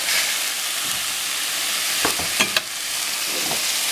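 Pork chops browning in a skillet sizzle loudly and steadily, with a few brief clanks and scrapes as they are flipped, and no one speaking.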